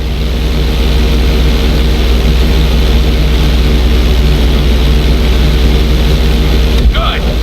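A propeller airplane in Grand Theft Auto 5 drones loudly and steadily with a low engine hum, unbroken for several seconds before a brief shift near the end.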